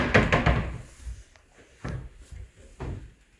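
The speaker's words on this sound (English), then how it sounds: "Let me show you inside the wardrobe." Wardrobe doors in a rented one-bedroom apartment are opened, giving a cluster of close wooden knocks and clatters at the start, then a few softer single thuds spaced apart in a quiet room.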